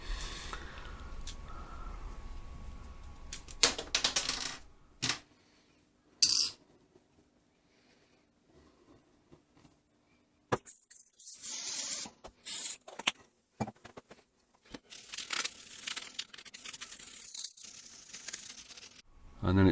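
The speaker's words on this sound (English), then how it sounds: "That's very tarnished, so we'll give that some foam cleaner and give that a good old scrub up." Foam cleaner is sprayed onto a tarnished eight-track cartridge cover and scrubbed, heard as short hissing sprays and rough rubbing bursts between quiet gaps, close by.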